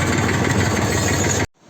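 A tractor engine idles close by with a steady low rumble and throb, then cuts off abruptly near the end, leaving near silence.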